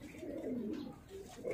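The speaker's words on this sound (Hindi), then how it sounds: "देख सकते हैं आप ये लाल गंडेदार कबूतर क्या खूबसूरती लिए हुए हैं" Red gandedaar pigeons in Tonk, India, give soft, low, rolling coos that run almost continuously. The calls are quiet and close, with no speech over them.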